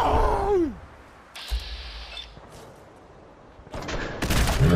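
Gunfire at mutants in Fallout 4, with bursts of shots breaking out between quieter stretches, loud and close, alongside groaning creature cries.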